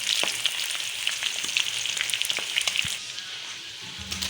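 Finely chopped onion frying in a pan, with a loud, continuous crackling sizzle full of spitting pops, close up, easing slightly near the end, no talking.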